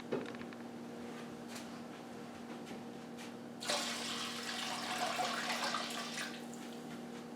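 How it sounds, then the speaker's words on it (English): Cold water pouring into a large stock pot holding a ham bone, a steady rushing splash that begins midway after a low background hum and continues to the end. "I'm going to add 6 quarts of cold water to this"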